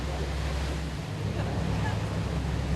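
Steady, strong wind roars over open water, with a constant low rumble underneath and no clear breaks.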